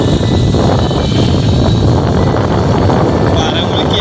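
Strong wind buffets the microphone on Taljai Tekdi hilltop, a loud, constant rumbling rush that lasts the whole few seconds with no voices heard.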